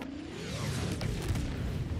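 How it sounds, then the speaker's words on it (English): Napalm strafing bombs going off in the video game Helldivers II: a rolling series of muffled booms and rumbling fire under a brief rising whoosh, fairly quiet and continuous throughout. "And a napalm strafing around it, like it should be."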